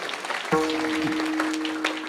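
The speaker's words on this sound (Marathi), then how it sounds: "त्या मातेसाठी एकदा जोरात टाळ्या वाजवा." An audience at a comic kirtan gathering breaks into applause for a devotee mother, a rough, moderate clapping that starts abruptly with a sustained harmonium-like drone underneath.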